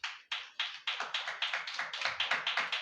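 A congregation at a Holy Communion service claps hands in a steady, fairly quick rhythm, about a dozen crisp, close claps in a row with no talking over them.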